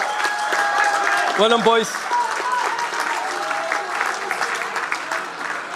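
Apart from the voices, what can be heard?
audience applause at an oyster opening competition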